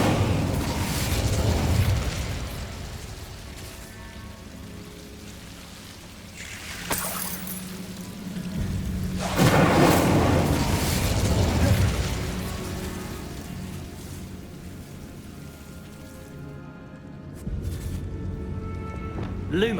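Incendio fire spells cast in Hogwarts Legacy on PS5 set off rumbling bursts and crackling flame blasts, with a loud roaring swell midway, a sharp crack before it, and ambient game noise around them.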